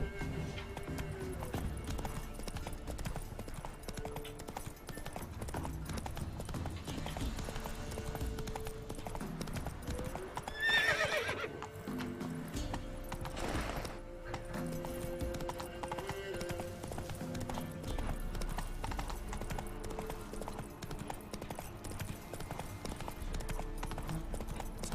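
Hooves of the horse Roach clip-clop at a gallop in The Witcher 3, a steady rapid drumming that runs throughout, with a brief whinny partway through under game music and ambience.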